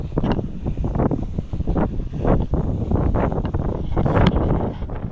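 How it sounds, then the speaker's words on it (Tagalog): Strong wind buffets the microphone outdoors in a continuous roaring rush with gusty swells, loud and close, with no speech over it. "Malakas yung hangin."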